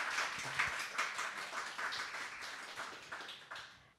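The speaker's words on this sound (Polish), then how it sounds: "bardzo proszę o brawa i zachętę dla naszego autora" An audience at a book meeting applauds the author Adam Stawicki, a moderate crowd of clapping hands with a steady, uneven rhythm that gradually fades toward the end.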